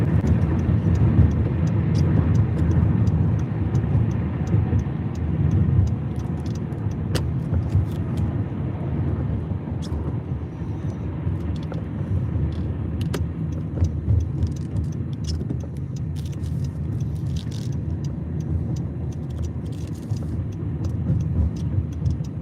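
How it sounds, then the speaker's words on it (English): A car drives through the town of King of Prussia with a continuous low road and engine rumble heard from inside the cabin. The sound stays steady and moderately loud throughout, with occasional faint clicks and no talking. "Stressful driving in this town."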